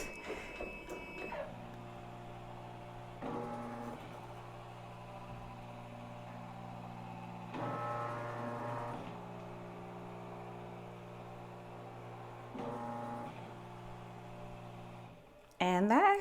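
A Ricoma embroidery machine runs a design trace, a steady mechanical hum with a rhythmic whir that rises in short bursts as the hoop moves, fairly close and continuous, ending with a sudden louder clatter.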